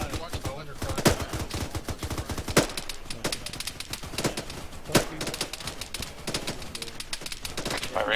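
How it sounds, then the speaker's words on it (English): Rapid bursts of gunfire and scattered single shots in a military shooter game, a BTR armored vehicle dropping troops nearby, sharp reports repeating steadily throughout with several louder cracks standing out. "Alright, we're taking fire now."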